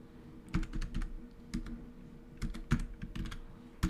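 Code being typed on a computer keyboard, a quick irregular run of soft clicky keystrokes in short bursts, close and quiet with no talking.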